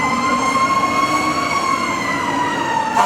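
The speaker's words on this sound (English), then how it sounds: "It didn't take long for the engine to get its first run because it happened just as the ceremony ended." A fire engine's siren wails loud and steady as the truck leaves on its first call right after a ceremony, with a heavy engine rumbling underneath and no talking.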